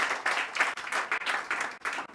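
A church congregation claps together in a steady, rhythmic pattern at a moderate level, the clapping coming in regular pulses with no voices on top.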